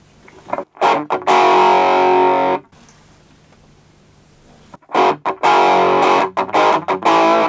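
Electric guitar through a Laboga LR1 amplifier with an 8-inch speaker, playing loud distorted chords in two bursts separated by a short pause while the EQ is tested.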